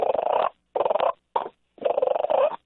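A hunter works a turkey call to imitate soft flock purrs, giving four separate rolling, fluttery bursts with short silent gaps between them, close and clear with no other sound.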